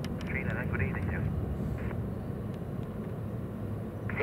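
A United Airlines Boeing 777 takes off at Hong Kong Airport, its distant jet engines producing a steady low roar while air traffic control radio chatter plays over it.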